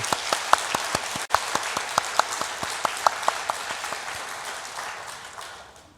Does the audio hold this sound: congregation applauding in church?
yes